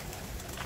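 Soft, low cooing of a pure kamagar pigeon, a female kept as a pair, one brief murmured call close by over a steady background hum.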